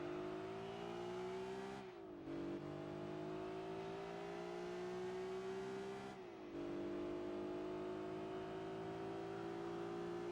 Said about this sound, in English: I like the sound of this car though.